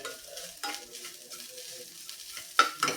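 Turmeric, coriander and cumin powders are stirred around a frying pan, giving soft scraping strokes over a low sizzle, with a couple of sharper spoon clinks near the end, close and fairly quiet.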